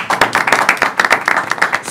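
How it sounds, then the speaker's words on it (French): A crowd at a student speech and eloquence contest in Lille applauds, a close, brisk burst of clapping with distinct individual hand strikes over about two seconds. "Alors, oui, on peut applaudir."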